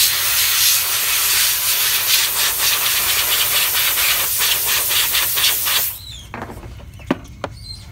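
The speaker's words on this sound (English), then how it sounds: "Just gonna blow off the excess separator." Steady loud hiss of compressed air blowing excess separator off a dental cast for about six seconds, then stopping, leaving a quiet room with a few faint clicks and taps.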